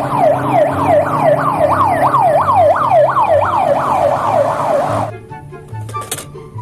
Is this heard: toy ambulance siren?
yes